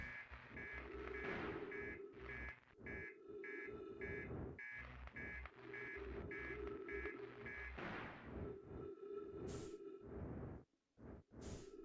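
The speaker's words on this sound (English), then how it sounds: "Does the beeping mean it's going to explode?" Repeated electronic warning beeps sound before a reactor explodes in the video game Outer Wilds, pulsing at a steady rhythm over rumbling engine noise and whooshes, with a few sharp bursts near the end.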